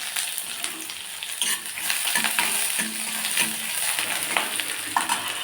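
Curry leaves and chopped onion dropped into hot oil with popped mustard seeds, a lively crackling sizzle with stirring and scraping, close and continuous throughout.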